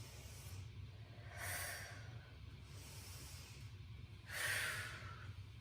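Two soft, breathy inhalations during an exercise routine, spaced a few seconds apart and heard close against a quiet room hum.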